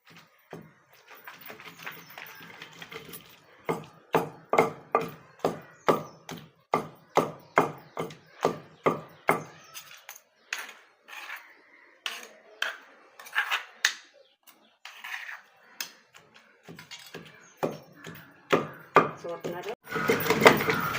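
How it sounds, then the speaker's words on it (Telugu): Coconut and ridge gourd chutney being ground by hand with a stone pestle in a traditional mortar, a long run of sharp, rhythmic knocks and scrapes at close range, with brief pauses and someone talking now and then. "చూసారా ఎలా కలిదిప్పేస్తున్నారు చక్క రోగల బండతో"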